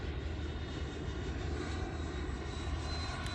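An HSD T-33 radio-controlled model jet flying at three-quarter throttle, giving a steady, even turbine-like drone that holds constant from start to finish, fairly faint and without talk over it.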